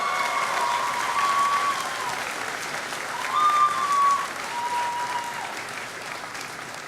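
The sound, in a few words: audience round of applause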